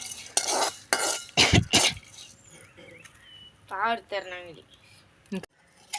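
Dried shrimp stirred and fried in a pan for a raw mango curry, a spoon scraping and clattering in quick loud bursts, followed by someone talking over faint sizzling.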